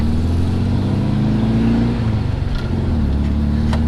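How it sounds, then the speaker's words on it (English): A car engine idles steadily while stuck in traffic, a loud continuous low rumble with slight fluctuation throughout and no talking. "Now I'm just sitting here in traffic, lights green up there"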